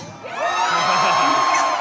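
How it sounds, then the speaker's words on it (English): A live audience cheering and whooping together in a loud, sustained swell of voices lasting about two seconds. "Are you applauding for me?"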